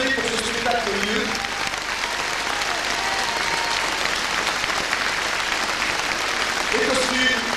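An audience applauds after a live stage performance of Les Misérables, dense sustained clapping filling the room throughout, with a voice speaking briefly over it at the start and again near the end.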